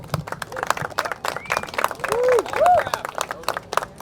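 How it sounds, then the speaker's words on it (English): Audience applause greets Mike Sweers, Chief Engineer for Toyota Tundra and Sequoia, at a fireside chat, a scattered burst of claps mixed with crowd noise and a few voices. "Please give him a round of applause."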